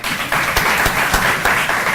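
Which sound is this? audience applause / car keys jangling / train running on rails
audience applause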